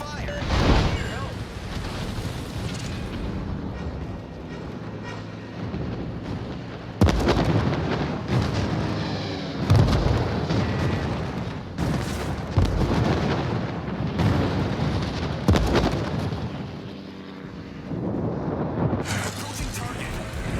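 Naval gunfire and shell explosions from the World of Warships video game, heavy booming blasts over a constant rumble of sea and engine noise, with bursts landing through the passage and a voice speaking over it.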